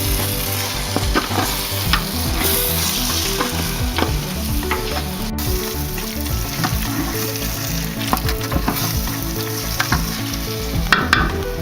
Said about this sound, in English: Bay leaves in there, and we'll stir all that up.